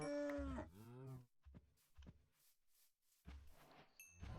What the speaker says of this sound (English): And there's cows.